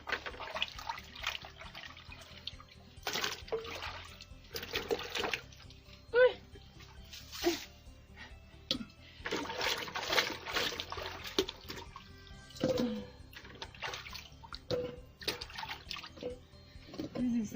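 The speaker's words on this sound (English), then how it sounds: "This is how we wash." Peeled bananas being washed by hand in water outdoors in a village, irregular sloshing and splashing bursts under a person's speech.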